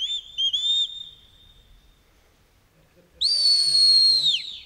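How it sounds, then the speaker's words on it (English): Two sharp, high whistles a few seconds apart at a sheepdog trial, the second louder and longer with a falling end, a shepherd directing a sheepdog. "Another encouraging whistle for Ben."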